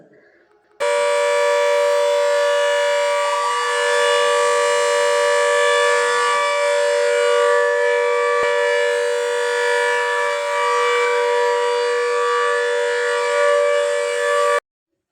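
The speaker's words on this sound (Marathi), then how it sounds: "सायरन पण वाजलेला होता खूप जोरात आवाज येत होता सायरनचा" A loud siren wails in a long, steady tone, sustained for many seconds without a break.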